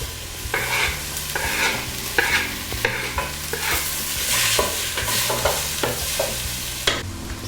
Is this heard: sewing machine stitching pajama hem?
no